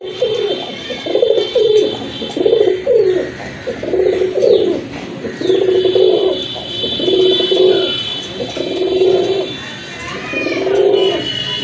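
Domestic pigeons coo in a steady series of about eight rolling, low calls repeated roughly every second, close and clear, with faint chirps and background noise between them.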